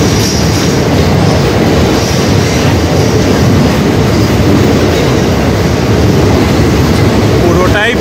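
A train roars loudly and steadily through mountain tunnels on the Agartala line, a dense, continuous rumble of wheels and carriage noise with no letup.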